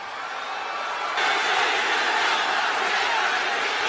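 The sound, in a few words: arena crowd booing at WWE Monday Night Raw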